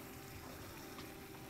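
Water is poured into a pot of Hungarian bogrács goulash soup as it cooks, making a steady, even rush of liquid throughout with no talking.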